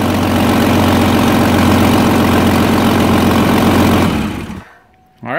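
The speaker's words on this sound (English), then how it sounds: "once it gets started, it idles out and it seems to run pretty well." A rebuilt Jeep 4.0L engine idles close by, a loud, steady low rumble with an even rhythm for about four seconds before it cuts off and the sound drops away.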